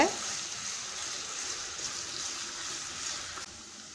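Peeled potato pieces fry in hot oil for a Spanish omelette, giving a steady, bright sizzling hiss that stays even and continuous from start to finish.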